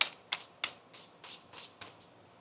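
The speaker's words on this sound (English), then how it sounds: "Let me shuffle that again for you." Tarot cards being shuffled by hand, a series of quick, soft riffling flicks about seven or eight in a row, close and quiet with no talking.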